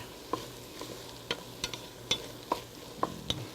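Ingredients for lime soup sauté in a pan, a soft steady sizzle broken by sharp clicks and scrapes of a utensil stirring against the pan at irregular intervals.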